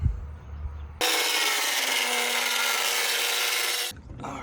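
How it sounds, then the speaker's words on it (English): A Sawzall reciprocating saw cuts through the hull of a jon boat near a drain hole, a loud, steady buzzing rasp that starts abruptly, runs for about three seconds without a break, then stops. "That sawzall went straight through that drain hole."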